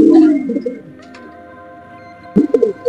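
Laldom pigeons coo close by, a throaty burst at the start and another near the end, with a quiet steady hum between them.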